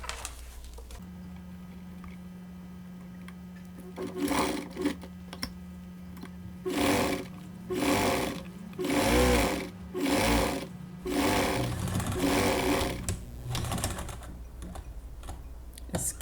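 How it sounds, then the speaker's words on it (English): A sewing machine stitches fabric cut from button-up shirt sleeves in several rhythmic bursts with short pauses between them, close and clear over a low steady hum. "Skip, leave an opening, and keep sewing."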